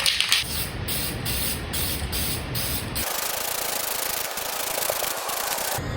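Spray gun laying a second coat of gloss black paint onto wheel rims: a steady, loud hiss of atomized spray runs throughout, with its tone shifting partway through but no pauses.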